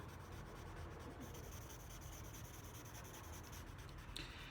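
Soft, continuous scratchy rubbing of a pencil on paper while drawing an egg and cloth study, faint and close, with steady strokes and no talk.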